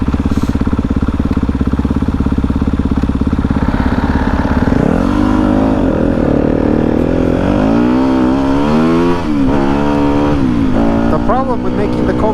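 Kove 450 Rally and Yamaha WR250F motorcycles drag racing, engines droning steadily then revving hard with rising, stepping pitch sweeps as the bikes accelerate through the gears, loud and close with some talk mixed in.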